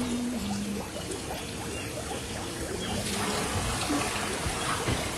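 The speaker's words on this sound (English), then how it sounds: "The water coming out the bottom?" Water trickles and pours steadily from a leak in the bottom of a bucket during a timed game-show challenge, a continuous close splashing wash with faint tones of people moving around it.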